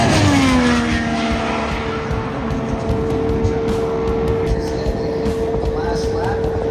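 Indy 500 race cars running qualifying laps at speed on the oval, a loud continuous engine drone with a steady pitch and a sweeping pass early on, overlaid with constant crowd and track noise.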